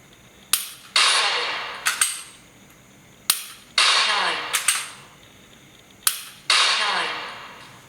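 Sharp mechanical clicks of a pistol dry-fired with laser training cartridges, in pairs of quick snaps repeated about three times across several seconds, close and crisp.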